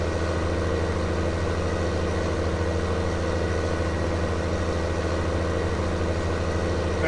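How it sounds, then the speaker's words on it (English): A farm tractor in Farming Simulator 19 runs steadily while pulling an Amazon Catros 4001 disc harrow across a tilted field, a constant low engine drone with no pauses or changes. "Tractor looks to be working pretty darn good."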